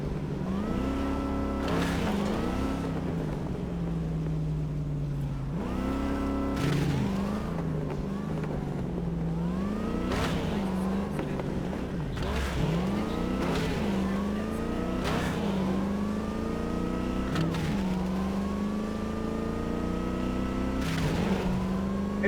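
A car driving in Cyberpunk 2077 revs steadily through its gears, the engine pitch climbing and dropping again and again in repeated shifts, loud and close throughout with no pause.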